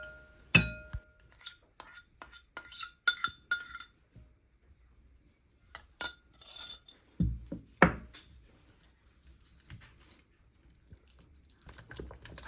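Sour cream being stirred into a filling of boiled condensed milk in a glass bowl, heard as a run of close, bright clinks and taps of a utensil against glass with quiet gaps between them.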